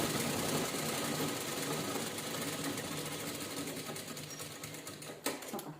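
A sewing machine stitches a two-tone fabric purse in one continuous steady hum, faint and even, ending with a brief click near the end.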